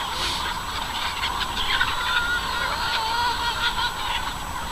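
A large flock of pasture-raised chickens on a farm keeps up a loud, constant chorus of overlapping calls and squawks, a busy wall of bird noise with no speech.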